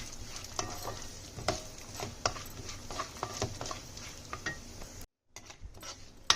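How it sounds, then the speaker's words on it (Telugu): Cashews frying in a pan while being stirred, made for rava laddu: a low sizzle runs throughout under sharp spoon-on-pan clicks and scrapes, with a brief silence near the end. "ఇందులోనే జీడిపప్పు కూడా వేసి ఫ్రై చేసుకుందాం"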